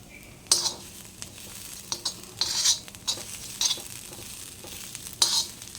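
Cluster bean thecha is stirred and sautéed in a pan: a low sizzle runs beneath repeated sharp scrapes and clinks of a spoon against the pan, close and irregular.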